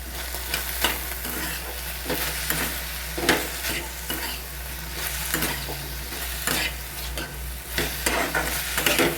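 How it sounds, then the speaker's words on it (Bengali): Shrimp fry in a pan with chicken and vegetables for Kolkata-style gravy chowmein. A loud, continuous sizzle runs under repeated scraping stir strokes, with no voices. "চিংড়িটা দিয়েও 2-3 মিনিট ভাজার পরে চিংড়ির রঙটা কিন্তু ঘুরে যাবে"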